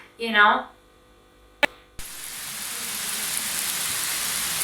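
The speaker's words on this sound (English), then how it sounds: "The forest under the siege of rain." Steady rain falls through a forest, a dense, continuous hiss that starts suddenly after a brief voice and a sharp click, then holds evenly and grows slightly heavier.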